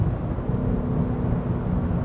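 A 2021 Audi S6 diesel pulling at full throttle, a dense low engine roar heard from inside the cabin, steady and loud throughout.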